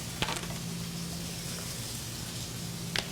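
Chicken escalopes sizzle steadily in a hot pan, a continuous moderate hiss with faint crackles and no talking over it.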